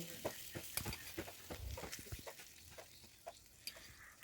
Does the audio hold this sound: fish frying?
yes